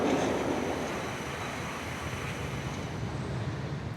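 A tram rolls through Helsinki streets with a steady, continuous rumble and hiss that holds even for several seconds, with no voices heard.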